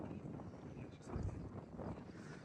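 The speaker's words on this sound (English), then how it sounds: "and it's pretty windy." Wind blows across an exposed trail near the two-mile marker on Mount Bierstadt, Colorado, a low, faint buffeting rumble on the microphone with gusts that rise briefly.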